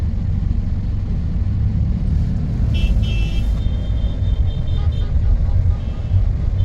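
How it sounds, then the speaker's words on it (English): Busy city road traffic rumbles steadily and close by, a continuous low roar of passing cars with a brief higher whine midway, heard without talk. "Traffic is just killer here."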